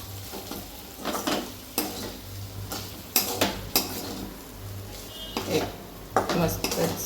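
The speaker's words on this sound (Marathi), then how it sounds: "मस्त त्याला मिक्स करून हलवून" A spoon stirs okra with red chilli powder in a pan, giving scraping clatters and knocks against the metal at an irregular pace, with a soft sizzle underneath and no talk.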